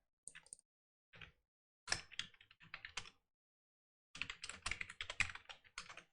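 Typing on a computer keyboard, close and quiet key clicks in short bursts separated by silent pauses, ending with a longer rapid run of keystrokes.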